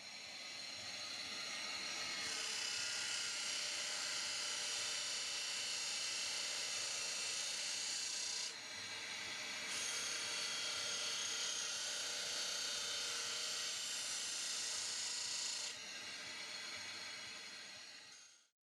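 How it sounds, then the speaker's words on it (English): A disc sander grinds through brass sheet, giving a steady high, hissing whir in long passes with brief pauses between them before it winds down at the end. "scored out the shape that I needed, and then cut it out on the disc sander"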